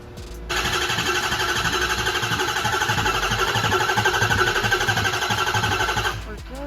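Freshly built engine cranking and firing up after priming, a steady loud mechanical drone with rapid rhythmic chatter that starts abruptly and runs continuously for several seconds before cutting off.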